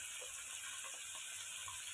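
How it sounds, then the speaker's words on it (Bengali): Onions frying in a pan for a chicken dish, a steady broad sizzle with faint crackles running throughout, close and even, with no talk. "আগে পেঁয়াজটা ভেজে নিই।"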